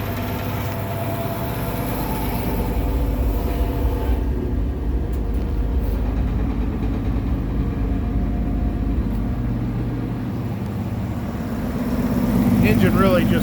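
A 1951 Chevrolet 6400 truck engine running steadily at idle, a low continuous rumble close by, with someone talking over it.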